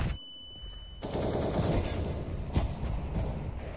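Rapid bursts of Counter-Strike gunfire on the Nuke map during a pro league match crackle over a steady background rumble, with a sharp louder shot near the end.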